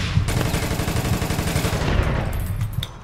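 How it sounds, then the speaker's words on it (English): Dense, continuous automatic gunfire in the video game APB: Reloaded rattles loudly and closely, with rapid overlapping shots for the whole stretch and no talk. "I'm getting shot at by Goldies."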